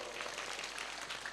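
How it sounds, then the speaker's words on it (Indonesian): An audience claps at an Indonesian religious lecture, a dense, steady patter of many hands that holds evenly for the whole stretch with no voice over it. "Tepuk tangan untuk Wonosobo"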